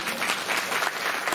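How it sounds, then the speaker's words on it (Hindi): Loud, dense applause from a crowd at a Guru Purnima festival at an ashram, a brief continuous burst of clapping close by. "एक बार जोरदार तालियां"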